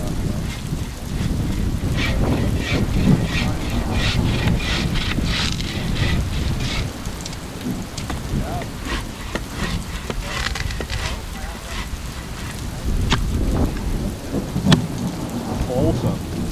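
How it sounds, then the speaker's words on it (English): Heavy rain pours at a wilderness-park campsite during a thunderstorm, with a dense steady roar of drops drumming on a tarp, sharp spattering hits and rolling thunder underneath, continuous and close throughout. "Look at how much it's raining."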